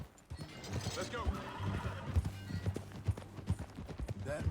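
Horse hooves gallop in the video game Red Dead Redemption 2, a steady rapid clip-clop rhythm throughout, with a brief whinny near the start.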